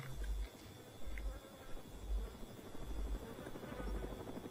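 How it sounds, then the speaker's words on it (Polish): Video game helicopter rotor blades in DayZ thump in a regular low pulse, about two beats per second, under a faint steady hum at moderate distance. "Helikopter słyszę."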